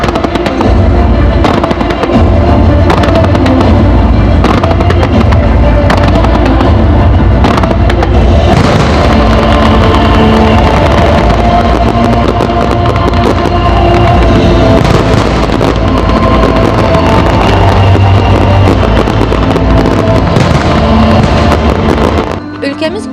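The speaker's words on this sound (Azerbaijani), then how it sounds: "Bakı Atəşfəşanlıq qrupu ənənəvi pirotexnika sənəti festivalının açılışını etdi." Fireworks by a Baku pyrotechnics group open a traditional pyrotechnic arts festival in Cannes, a loud, dense barrage of booming and crackling bursts that rolls on without pause for over twenty seconds, with voices faintly underneath.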